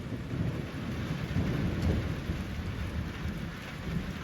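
Steady rain pours with a low rumble of thunder at an off-grid log cabin construction site, a dense, continuous wash of sound with no voices.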